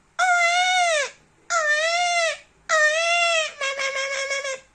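A person imitates a baby crying, giving three drawn-out wailing cries in a row followed by a shorter, choppy sobbing burst, close and clear with no other sound.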